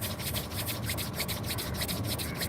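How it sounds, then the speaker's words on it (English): Palms rubbed together during a morning face yoga and Ayurveda routine, a steady dry swishing friction that continues for the full stretch at close range, with no talk. "rubbing the palms together"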